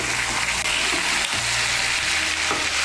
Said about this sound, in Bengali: হলুদ গুঁড়োটাকে মিশিয়ে নেব।